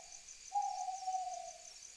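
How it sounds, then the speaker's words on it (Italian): A single drawn-out owl hoot in a night forest ambience, steady and mid-distance over a faint background hum and insect-like high tones, with no voices. "abbiamo messo una foresta notturna e anche dei suoni di gufi"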